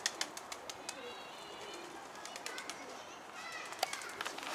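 Pigeons cooing softly at a distance, with repeated short sharp clicks and taps over a quiet background.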